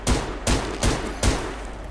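Rapid gunfire in the Survarium online shooter, four sharp bursts in quick succession at close range, loud and evenly spaced with no voices over them.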